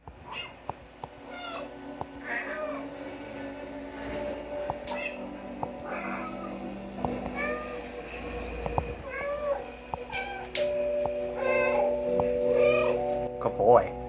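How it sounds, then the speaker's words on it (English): Repeated cartoonish cat meows from the video game Stray, many short calls in quick irregular succession, some overlapping, with background noise and occasional voices between them. "here's me abusing the meow button"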